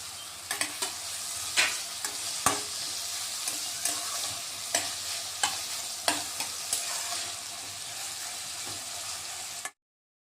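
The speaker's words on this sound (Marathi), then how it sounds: "आता चांगले परतून घ्यायचे फोडणीत" Diced potato and tomato stir-fried in a spiced oil tempering for kanda poha, a steady sizzle broken by repeated sharp scrapes of a spoon against the pan, then an abrupt cut to silence near the end.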